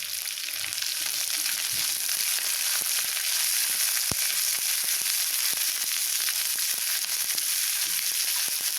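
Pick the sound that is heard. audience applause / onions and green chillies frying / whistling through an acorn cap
onions and green chillies frying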